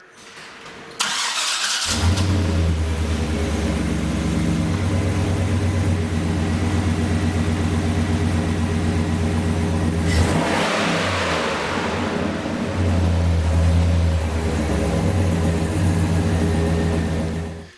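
A 1999–2007 Chevy Silverado truck with a cheap aftermarket exhaust starts with a sharp crank and catches into a loud, deep idle, then revs up around the middle before settling back to a throaty rumble, heard up close with no talking.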